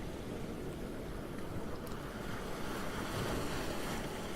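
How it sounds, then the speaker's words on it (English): Ocean waves wash in over sand in a steady, broad rush of surf with wind noise, soft and continuous with no voices. "the water is just coming up over your ankles as the waves come in"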